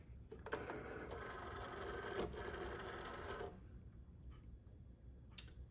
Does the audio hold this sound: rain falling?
no